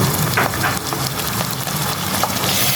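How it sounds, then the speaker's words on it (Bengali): Diced chicken breast, about 150 grams cut into small cubes, fries with onions in a pan, making a loud, dense, rain-like sizzle and crackle that runs steadily throughout without talk. "এটা এখন এই পেঁয়াজের সাথে একটু ভেজে নিব।"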